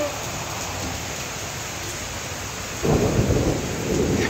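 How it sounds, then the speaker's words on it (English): Outdoor thunderstorm with steady rain hissing throughout, then a deep rumble of thunder swells in near the end. "Okay, that's the last thunder you guys heard."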